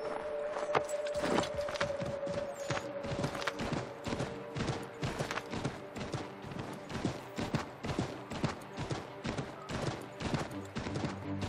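Hooves from a galloping horse in Assassin's Creed III, a steady fast run of sharp clip-clop beats, loud and close, moving through a forest with a faint tonal hum under the rhythm.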